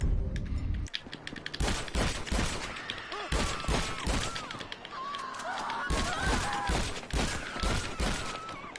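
Repeated loud shotgun blasts in GTA 5, firing in a quick irregular series with a few short pauses, mixed with other game noise and scattered effects.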